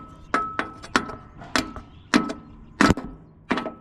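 A hammer strikes the top of a part on a modified lawn mower, six sharp metallic knocks spaced roughly every half second, close and loud with no talk.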